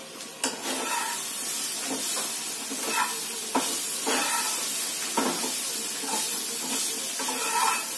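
Steady broadband hiss and crackle of food sizzling in hot oil, with occasional clinks of a utensil stirring or turning it, close by.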